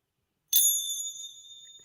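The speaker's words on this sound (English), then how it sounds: "Oh, but I have my chimes." Hand chimes struck once after a moment of silence, ringing out in clear, bright metallic tones that hang and slowly fade, close by and alone.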